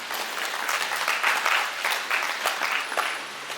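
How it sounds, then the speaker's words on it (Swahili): An audience in a hall claps together in a dense, sustained round of applause that rises and falls in waves without fading out. "Tuwapigie makofi mengi."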